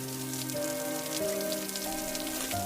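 Steady rain pours around an open roadside food cart in an animated story, a continuous soft hiss running throughout beneath sustained background music.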